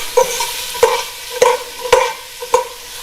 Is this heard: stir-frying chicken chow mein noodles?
yes